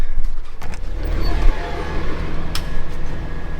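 A flood-damaged car being driven or towed away from a repair shop, its engine rumbling low and steady at close range, with a brief sharp clank midway.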